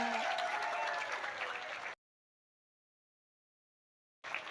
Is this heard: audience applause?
yes